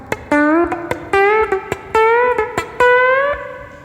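An electric guitar plays a chicken pickin' lick: sharp percussive clicks from pick-muted strings alternate with bright twangy notes that bend upward, in a quick snappy rhythm, close and solo.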